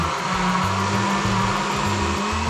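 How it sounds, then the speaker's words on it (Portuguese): A kitchen blender whirs steadily as it mixes crepe batter of eggs and other ingredients, a loud continuous motor drone with a pulsing low hum throughout, no talking. "vamos bater no liquidificador e deixar virar uma massa saborosa"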